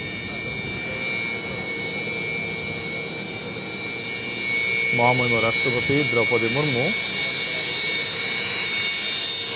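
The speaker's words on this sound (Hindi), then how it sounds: "सुखोई 30 वर्तमान समय लैंड करुछि बा अवतरण करिछि" A Sukhoi-30 fighter jet lands at Tezpur air base in Assam, its engines giving a continuous high whine throughout while someone speaks over it partway through.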